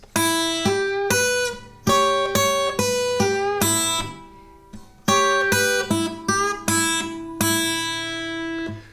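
A fingerpicked blues melody on acoustic guitar, the first line of a song, bright plucked notes in short phrases with ringing bass strings, a brief pause midway, played alone and close.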